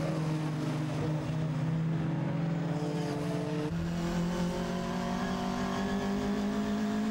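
Onboard a saloon race car at Mallory Park, a loud, steady engine drone fills the cabin as the driver works the throttle, the pitch shifting slightly midway with no talk.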